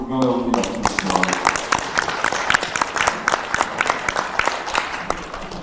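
Applause from a crowd at a press conference in Mokpo, dense continuous clapping after a brief voice at the start, loud and close.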